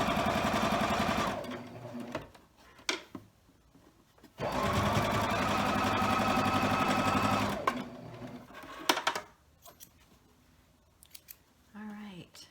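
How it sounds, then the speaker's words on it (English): Scrap quilt block pieces are stitched on a sewing machine in two steady bursts, close and clear, separated by quieter handling and a few sharp clicks, with a little soft talk near the end. "And we'll sew this last one together."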